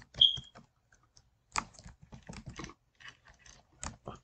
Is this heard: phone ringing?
no